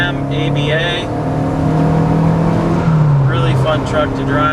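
A 1981 VW Rabbit pickup with a 5-speed manual and an ABA engine with a .268 cam drives on a road, its engine droning steadily from inside the cab and rising in pitch, while a voice talks over it.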